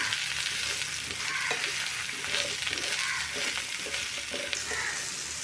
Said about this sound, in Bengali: লবণ আর হলুদ দিয়ে আমি পটলটা ভেজে নেব।